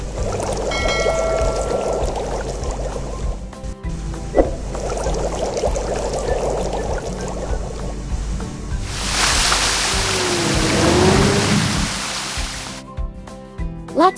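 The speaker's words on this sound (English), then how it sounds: "Let's fill it with water and turn the fountain on." Water flows and pours in a garden fountain scene of a construction truck and tractor game, a steady splashing stream with a louder gushing burst midway, mixed with light game effects and no speech.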